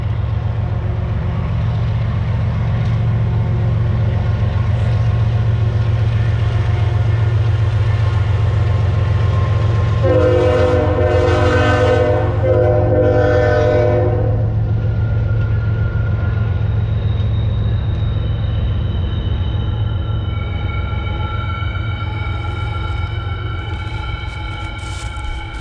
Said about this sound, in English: Here comes the train, folks.